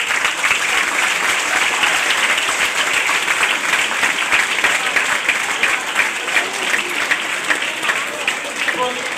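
A college event audience bursts into sustained, dense applause that stays loud and even throughout, many hands clapping together in a large hall.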